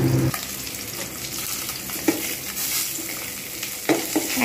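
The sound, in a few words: fish pieces (pona) frying in a pan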